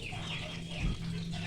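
Free-range village chickens on an Indonesian poultry farm cluck softly and intermittently against a steady background hum, fairly faint and distant.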